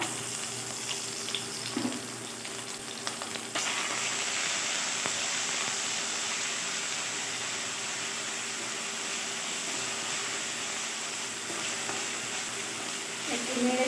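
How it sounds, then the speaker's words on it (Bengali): Ginger and green chili paste sizzles steadily in a pan for a Bengali jute-leaf dal, with a sharp jump in frying noise a few seconds in, occasional stirring scrapes and a faint background hum. "এখানে মশলাটা ভালো করে একটু ভেজে নেব"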